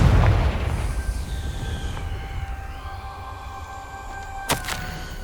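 A Confringo fire spell explodes in Hogwarts Legacy, opening with a loud low boom that fades into a long rumbling decay with sustained tonal ringing, then a sharp crackling burst near the end.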